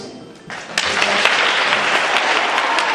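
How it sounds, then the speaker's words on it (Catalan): Applause breaks out at a cultural awards ceremony, starting quietly and surging to full, steady clapping from a large audience that holds at a strong level to the end. "Per aplaudiment."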